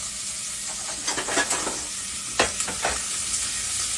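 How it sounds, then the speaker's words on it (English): Onions sweat in hot oil in a pan, giving a steady close sizzle and hiss with a few brief crackles and stirring scrapes rising above the constant frying noise. "I have my oil that's nice and hot, and I'm going to sweat my onions."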